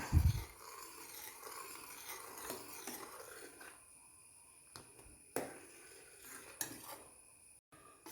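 Milk for palada payasam simmering in a pot while a spoon stirs it, with soft scraping and sharp metal clinks against the pot's side at irregular intervals. Quiet and close, with no voices.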